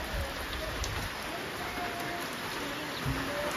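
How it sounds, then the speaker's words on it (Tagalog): Heavy rain falls on a farm in a dense, continuous hiss that stays loud and even throughout, with scattered heavier drops. "Malakas ng ulan."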